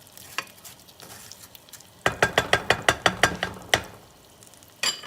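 Rice frying in plenty of oil for Spanish rice, stirred with a wooden spoon: a rapid series of sharp scraping knocks against the pan over a steady background sizzle, with a few isolated strokes before and after.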